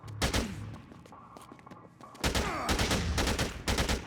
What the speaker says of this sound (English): we are going to try and tap fire down Boykin with our LMG